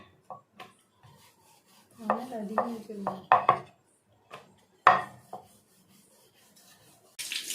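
Puri dough rolled out on a board, a scattering of soft rubbing strokes and dull wooden knocks and clacks, irregular and close, with quiet gaps between them.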